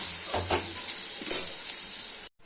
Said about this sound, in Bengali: আলুগুলো আমি ভেজে নেব, একটু ভালো করে ভেজে নেব